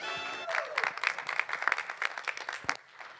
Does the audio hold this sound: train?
no